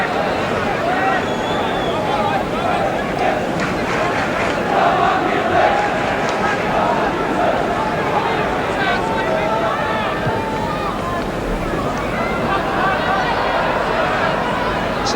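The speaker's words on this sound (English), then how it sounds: "But applause for the new boy" A football crowd at a 1975 Everton match applauding, a broad continuous roar of clapping and murmur from the terraces under a commentator's voice.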